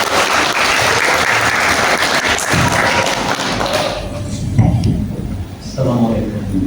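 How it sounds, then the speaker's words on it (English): Audience applause for a speaker at a peace talks event, a dense wash of clapping that holds steady for a few seconds and then thins out into scattered claps and muffled room noise. "Give applause for our speaker."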